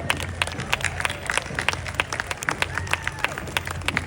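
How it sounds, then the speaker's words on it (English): Outdoor crowd clapping at an Armed Forces Day parade in Torrance, California, as police officers working the route are applauded: scattered, uneven claps from a spread-out crowd, moderately distant with street murmur underneath. "beckoning us to give a round of applause to the police officers who are working the parade today"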